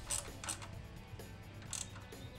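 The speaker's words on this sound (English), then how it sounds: "Now it's just a matter of tightening the hardware." A ratchet tightens fender bolts on a Jeep Wrangler JK, giving a few quiet bursts of clicking separated by pauses, faint against low background hum.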